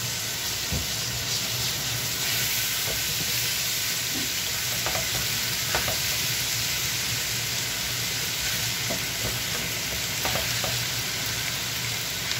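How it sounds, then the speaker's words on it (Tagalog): Chicken frying in cooking oil until golden brown for chicken stroganoff, a loud, constant close sizzle with occasional soft knocks and stirring sounds over the steady hiss. "So lagyan natin guys yung ating chicken. Hanggang sa mag-golden brown lang siya guys."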